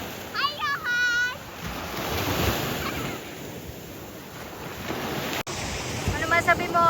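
Ocean waves at a beach resort, a continuous wash of surf under heavy wind buffeting on the microphone, with brief voices and bird-like chirps in the background.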